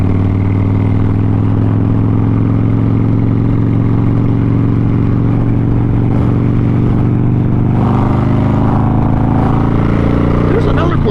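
Harley-Davidson Crossbones motorcycle cruising in sixth gear, its engine holding a steady low droning hum under constant wind rush, loud and close throughout.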